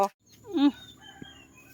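A chicken in a backyard vegetable garden gives one short, clear squawk that rises and falls, with faint rustling and a soft tap after it.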